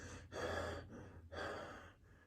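A man imitates heavy breathing as a caricature of a movie actor, two long loud breaths with a short pause between, close and alone with no speech.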